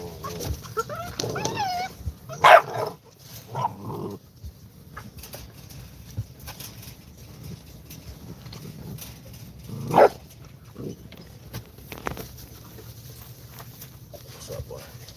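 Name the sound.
dogs barking, Presa Canario breeding kennel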